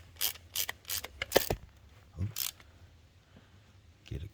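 Ratcheting clicks from a wrench snugging down an alternator bolt on a 2008 Maserati GranTurismo, several short bursts of close mechanical clicking with pauses between them, fairly quiet.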